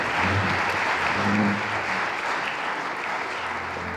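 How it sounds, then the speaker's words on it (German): A concert audience applauds a university symphony orchestra in Osnabrück, sustained dense clapping filling the hall at steady loudness for the whole stretch, with no voices over it. "Applaus"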